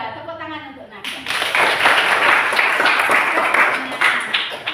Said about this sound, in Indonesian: Tepuk tangan untuk Naga.